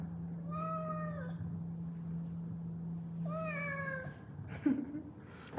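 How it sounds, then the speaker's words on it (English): A house cat meows twice in a quiet kitchen, two drawn-out cries a couple of seconds apart over a steady low hum, followed by a soft clatter. "My cat is meowing."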